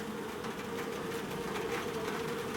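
Honeybees buzzing steadily around a hive with a screened top, a dense continuous drone with no talk over it.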